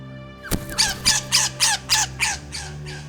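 A bird at a drying forest creek gives a loud, close series of about eight harsh squawks in an even rhythm, each call rasping and slightly fading toward the end.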